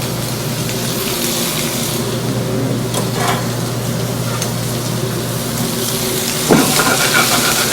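Food seasoned with salt and pepper sizzles steadily in Mojo de Ajo garlic oil, a constant close frying hiss with a brief clatter of utensils near the end.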